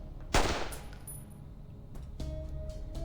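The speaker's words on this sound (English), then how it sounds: "The deafening gunshot echoes against the walls." A single loud gunshot in the video game Reverse: 1999, a sharp blast followed by a ringing decay, with a second fainter impact a moment later.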